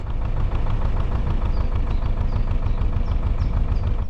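A canal boat's engine chugs steadily while cruising along the canal, a close, loud, even rhythmic throb that holds constant throughout.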